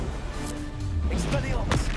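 A Confringo spell blast goes off in the video game Hogwarts Legacy, a brief booming burst heard amid game noise and a voice.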